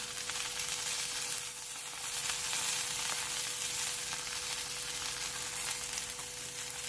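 Crushed red chilies sizzle in hot oil with okra and potato in a bhindi aloo fry, a steady, dense, close crackling hiss that holds at an even loudness throughout with no voices.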